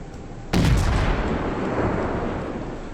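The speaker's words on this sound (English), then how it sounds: "Here comes his return fire." Heavy naval gun blast from a boat combat video game, a single loud boom with a rolling, decaying rumble that lingers for over two seconds.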